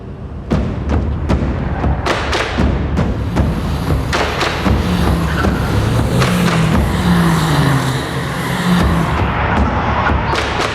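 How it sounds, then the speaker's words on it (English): Mercedes GT race cars lap Circuit of the Americas with loud, close engine roar, gear shifts and repeated sharp thumps over curbs and bumps, the engine note rising and falling continuously for about ten seconds. "racing with him in the Mercedes GT cars"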